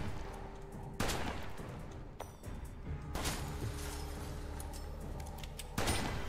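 Gunfire from a triple-shot weapon in the video game West of Dead: a few sharp, loud bursts spaced a couple of seconds apart over a steady game backdrop.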